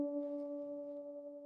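Bass guitar harmonics rung slightly out of tune against each other, two sustained bell-like tones wavering faintly as they beat, quiet and close with no talk.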